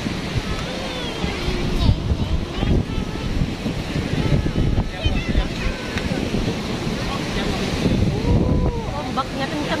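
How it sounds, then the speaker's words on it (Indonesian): Strong ocean waves crash and roll at Tanah Lot, Bali, in a continuous loud surf roar with heavy wind buffeting the microphone and faint voices underneath. "Ombaknya kencang, guys."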